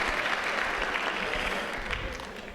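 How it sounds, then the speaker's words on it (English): Audience applause fills a school auditorium during a high school guidance transition night, steady broadband clapping from a sizable crowd that holds evenly for a couple of seconds before tapering slightly. "I guess you can cheer now."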